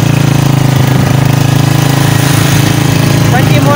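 A motorcycle engine runs steadily at close range with a loud, constant, pulsing drone, while someone talks over it.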